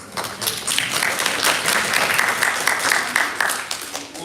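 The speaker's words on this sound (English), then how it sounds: "Just a round of applause and thanks" A room of attendees at a school district board meeting claps steadily for about four seconds, a dense, moderately loud round of applause with no one speaking over it.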